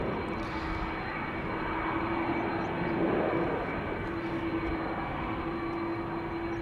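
A TUI Boeing 787 Dreamliner departs Amsterdam Schiphol for Bonaire, its engines a loud, steady roar with a sustained whine, swelling slightly partway through.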